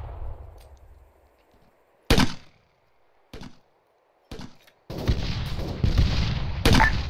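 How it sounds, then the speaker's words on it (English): Gunfire aimed at a team in a firefight, several loud close bursts and cracks separated by short gaps, then a sustained harsh volley near the end. "they're shooting AG at us"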